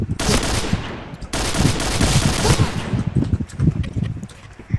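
AUG rifle fire in a video game, loud, close bursts of rapid shots in fast succession that pause briefly and resume, with a few scattered single shots toward the end.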